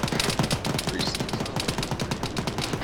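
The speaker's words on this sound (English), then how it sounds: "taking heavy fire from that BTR" Dense, rapid gunfire from a military squad battle in a video game, with continuous overlapping bursts of automatic weapons fire, loud and close throughout with no talk.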